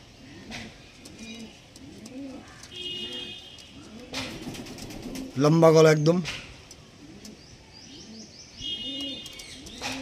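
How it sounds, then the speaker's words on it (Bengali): Two released Black Diamond pigeons coo in repeated low, rolling phrases with a few chirpy notes, close by, while someone talks over them. "তো চলো পায়রা দুটোকে আমি তোমাদেরকে ছেড়ে দেখিয়ে দিই"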